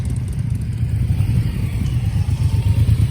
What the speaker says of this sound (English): He's got a Harley, I don't know what it is